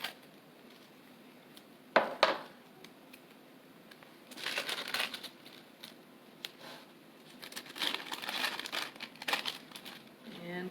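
Tape is pulled and pressed onto wax paper for a quilled paper snowflake project, making a sharp crackle and then bursts of crinkling and rustling, fairly close, with quiet gaps between.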